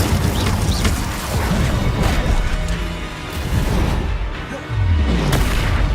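Confringo blasting curse explosions in the Hogwarts Legacy video game: loud booming bursts and crashing impacts over a dense rumbling backdrop of spell effects, with no talking.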